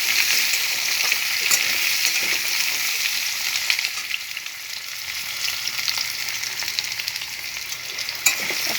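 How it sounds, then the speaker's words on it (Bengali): Potatoes with a green chilli fry in a pan, giving a steady, bright, close sizzle with occasional crackles and stirring scrapes that runs throughout without talk. "এখন আলুটা কিছুক্ষণ ভাজা ভাজা করব।"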